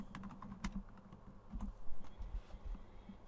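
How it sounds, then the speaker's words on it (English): Keys tap quietly on a computer keyboard in a run of irregular light clicks, close and soft, with brief bursts and gaps between keystrokes and no voices. "If I start typing P-trans"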